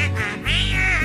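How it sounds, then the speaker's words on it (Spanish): A duck quacks twice, close and loud, with a short nasal first call and a longer, drawn-out second one. "¡Ah, re tierno el pato!"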